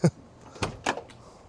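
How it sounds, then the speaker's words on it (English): The door of a 1950 Ford Custom Deluxe convertible opens with three sharp, close clicks and clunks of the latch and hinge, spaced across a second and a half in a quiet setting. "Again, doors open nicely"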